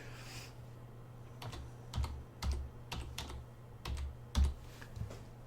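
A password being typed on a computer keyboard, a series of soft close keystrokes in an uneven rhythm, with a faint hum underneath and no talking.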